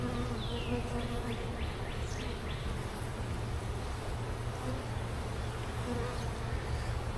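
Honey bees from a huge, honey-divided hive buzz steadily and closely throughout a hive inspection, a dense continuous hum with a few brief higher buzzing passes near the start.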